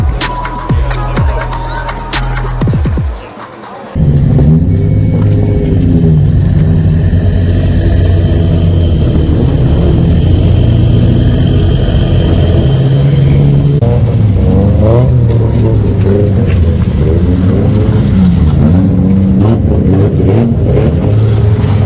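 Drift cars, a Safiro and a Laurel, revving loudly nearby with sustained engine roar and rising, shifting pitch after a brief quieter opening.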